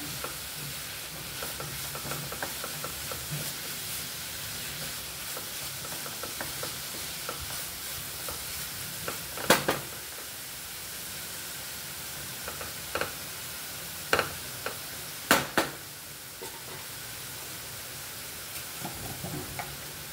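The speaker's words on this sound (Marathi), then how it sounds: "छानपैकी हे सारण आपल्याला आता सुक्कं होईपर्यंत परतून घ्यायचंय" Fresh coconut filling sautés in a pan with a steady close sizzle, broken by occasional sharp clicks and scrapes of stirring.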